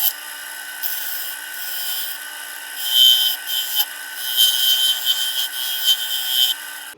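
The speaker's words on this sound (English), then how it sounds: "I'm gonna touch up the rim here, and then I'm gonna start to sand it" Sandpaper works over a hand-turned wooden bowl, producing a continuous raspy rubbing hiss that swells and fades in uneven strokes, close up with no talking.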